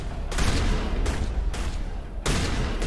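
Shotgun blasts in the Mass Effect video game, several heavy booming shots in quick succession with loud, dense roaring bursts and no talk.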